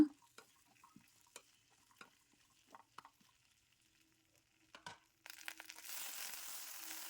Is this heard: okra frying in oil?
yes